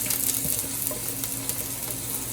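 Green pepper, celery and onion for a vegan black-eyed pea jambalaya sizzle loudly and constantly in a pan, with faint stirring scrapes and no voices.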